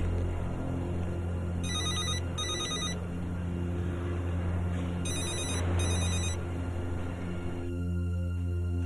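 A telephone rings unanswered indoors, two bursts of double electronic trills repeating over a low steady hum, with no one speaking.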